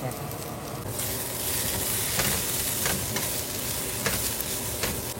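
Egg noodles seasoned with salt, chili powder and pepper fry with a loud, continuous sizzle, and a utensil taps and scrapes against the pan several times as they are stirred.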